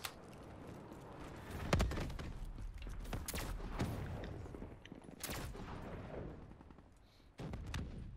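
Gunfire in the shooter game Call of Duty Black Ops III, with loud, sharp shots and bursts at irregular intervals over steady battlefield noise, with a few heavier cracks standing out.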